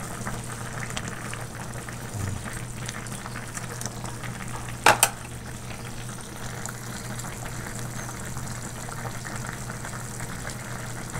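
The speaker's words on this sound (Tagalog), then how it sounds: "Ayan, kulong-kulo." A pot of chicken feet and taro boils steadily, giving a soft continuous bubbling and simmering hiss throughout, with a brief sharp clink near the middle.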